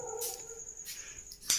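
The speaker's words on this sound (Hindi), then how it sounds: "आज बहुत ज़्यादा कुत्ते भौंक रहे हैं" Several dogs bark in short, faint bursts from some distance outside a residential study room, three separate yelps spread across a quiet background with no talking.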